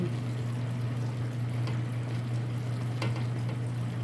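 Chicken adobo simmering in a pan as it is stirred, a steady bubbling sizzle with a low constant hum underneath and a few soft scraping clinks of the spoon.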